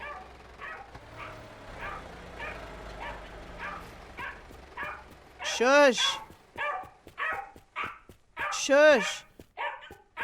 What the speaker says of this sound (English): Oh my god, the dog is back again.